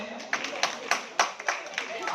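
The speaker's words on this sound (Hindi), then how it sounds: "आप सभी की तालियां बजती रहे" An audience at a Diwali poetry function claps in a sparse, uneven patter of individual hand claps, moderately close, with a voice speaking over it.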